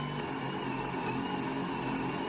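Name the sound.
power drill drilling holes through joists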